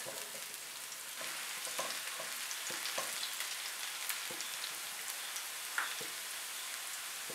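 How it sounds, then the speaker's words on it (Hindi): Crushed garlic and chopped onion frying gently in a pan give a steady, soft sizzle with light crackles and a few sharper pops, close and continuous, with no voices. "1 टेबलस्पून कुटा लहसुन। इनको हल्का सा फ्राई करेंगे।"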